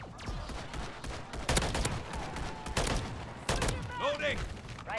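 Video game gunfire during a Call of Duty: MWIII Zombies match, a string of sharp shots and bursts with dense, loud firing throughout, mixed with game effects.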